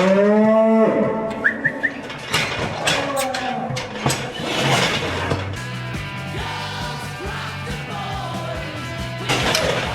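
Heifers mooing loudly and repeatedly up close, with long harmonic calls overlapping amid farmyard noise, and a voice briefly audible among the cattle.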